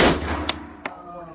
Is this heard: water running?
no